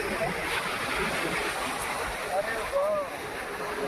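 Waves washing in at a shore, a continuous broad rush of surf with wind noise buffeting the microphone, while a voice speaks over it.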